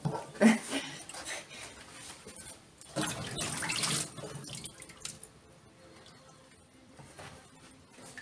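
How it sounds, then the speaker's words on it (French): Water rinses over prepared olives with thyme and garlic in a container, splashing and trickling in bursts near the start and again around the middle, with quieter dripping between and a voice talking briefly. "je vais rincer tout ça comme ça"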